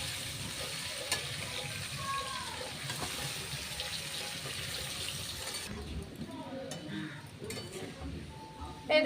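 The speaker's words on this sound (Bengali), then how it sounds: "আমি আরেকটু নেড়ে নেড়ে আরেকটু লাল লাল করে ভেজে নেব" Potatoes fry in oil with asafoetida, cinnamon, cloves and cardamom in a pan for aloo dum: a steady, moderate sizzle with occasional stirring scrapes, quieting toward the end, with faint voice traces.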